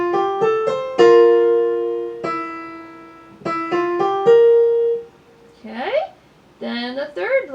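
A piano plays the second line of a jazz-style teaching piece, as clear single notes and short chords for about five seconds before a voice starts talking.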